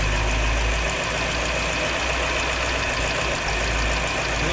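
A 1958 Chevy Bel-Air engine, abandoned for 30 years, runs loudly and steadily close by, a rough continuous rumble with a knocking undertone and no voices.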